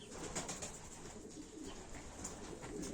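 Pigeons in an outdoor loft coo steadily and fairly close throughout, with soft overlapping calls and faint rustling; no one speaks.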